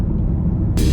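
Ford XF Falcon car pulling away, a steady low engine rumble throughout that swells into a louder, brighter burst of revving near the end.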